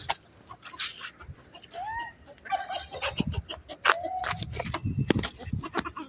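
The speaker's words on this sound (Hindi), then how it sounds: "मुर्गे को भगा मुर्गे को" A rooster being chased gives a few short squawking clucks amid scuffling, rustling and background noise, loud and close at moments.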